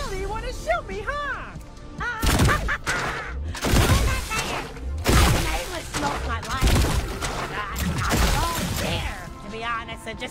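Bursts of gunfire in the video game High on Life, rapid volleys that come and go over game music and sound effects, with someone talking throughout.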